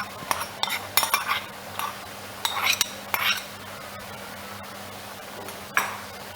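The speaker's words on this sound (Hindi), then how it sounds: "अब बस इसको आपने मिक्स करना है अच्छी तरह।" Chicken chow mein noodles are tossed with sauce in a pan, with scattered metallic clinks and scrapes of a utensil against the cookware over a quiet background.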